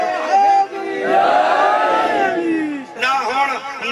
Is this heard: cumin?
no